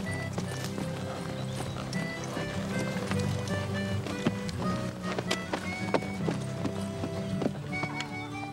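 A horse on a Wild West ride walks with steady, close clip-clopping hooves, a brisk irregular patter throughout with a faint background murmur.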